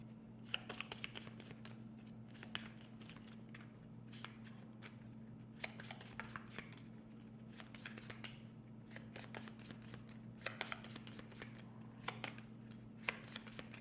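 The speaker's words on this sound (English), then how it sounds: "Shuffle the discard pile and move all gold cards to the top of its deck" Cards being shuffled repeatedly, a crisp flurry of riffles and snaps in quick bursts over a steady low electrical hum, close and fairly quiet.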